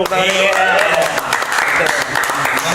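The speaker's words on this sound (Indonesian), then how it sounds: "Boleh minta tepuk tangannya." A stand-up comedy audience claps and cheers in a loud, dense burst of applause that fills the room and tapers slightly, with the comedian's voice mixed in.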